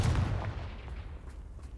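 Confringo blasting-spell explosion from the Hogwarts Legacy video game, a single loud booming blast right at the start that decays into a rumbling tail.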